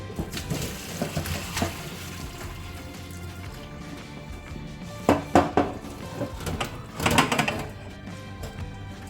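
Water from boiled yam stems pouring and splashing as it is strained, with clanks of a metal pot against a sink, several louder bursts of clatter and running water close by.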